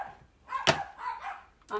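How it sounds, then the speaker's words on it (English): Several pet dogs bark from somewhere in a house, a couple of sharp yelps spaced apart at moderate distance, with a soft voice-like sound between them. "My dogs are barking."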